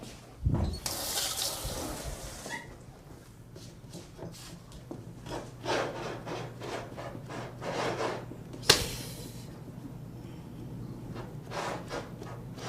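Water runs from a tap in steady splashing bursts, with rubbing and knocking handling sounds between them and a sharp clunk near the end, heard close up over a faint hum.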